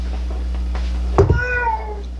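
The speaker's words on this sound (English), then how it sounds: "That cat seems really sad about it." A cat lets out a single drawn-out, wavering meow after a brief bump, heard fairly close over a steady low hum, with no one talking.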